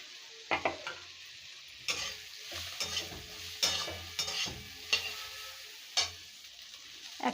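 Capsicum frying in a pan while being stirred, for a chilli jackfruit recipe, with steady sizzling and repeated scraping, clattering strokes of a spoon at an uneven rhythm, close and fairly loud, with no talk.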